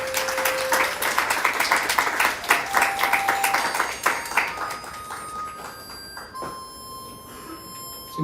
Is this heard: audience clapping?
yes